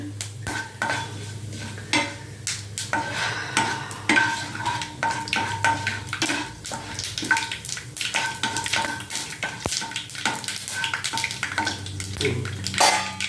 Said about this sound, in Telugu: కొంచెం వేగాలండి ఇది.